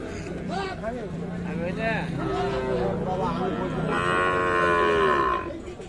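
Sahiwal bulls moo loudly in long, drawn-out calls at a cattle market while people talk nearby, the lowing swelling strongest toward the end.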